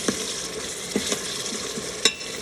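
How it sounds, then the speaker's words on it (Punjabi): Spice masala fries in a pan for aloo rajma sabzi, a light continuous sizzle broken by a few crisp spoon knocks and scrapes against the metal. "ਹਾਂਜੀ ਮਸਾਲਾ ਆਪਣਾ ਭੁੱਜ ਗਿਆ ਵਾ"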